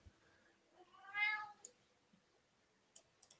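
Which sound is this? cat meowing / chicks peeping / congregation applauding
cat meowing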